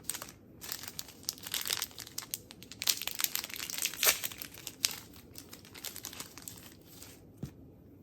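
Close, crackly crinkling of plastic packaging around a necklace being handled and pulled open, in irregular bursts with a few sharper snaps.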